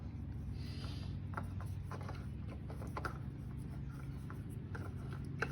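A new Briggs & Stratton oil filter being screwed by hand onto a Craftsman T130 lawn tractor, close rubbing, scraping and faint ratchet-like clicks over a steady low background hum, no talking.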